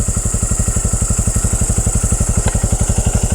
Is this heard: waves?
no